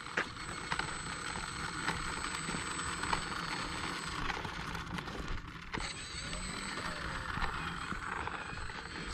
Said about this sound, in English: This is Pilot Mike's maiden of his E-Flite Pitts 850mm.